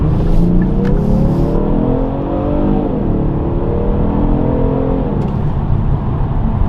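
Genesis G70 twin turbo in sport mode accelerating hard on a racetrack, a loud continuous engine roar with rising pitch sweeps as it pulls through gears, close and steady with no talk.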